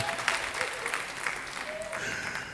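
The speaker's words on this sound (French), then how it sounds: "Applaudis très bien pour le Seigneur." A church congregation applauds during a Wednesday worship service, sustained lively clapping with some voices mixed in throughout.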